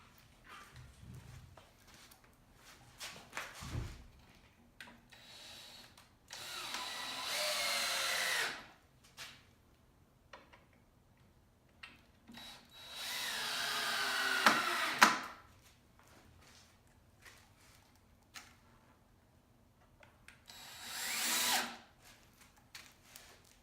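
Cordless power drill driving 2.5-inch screws into a wooden board on a DIY Halloween pneumatic prop, three separate bursts of whirring with winding pitch, each a few seconds long, separated by quieter handling noise and clicks.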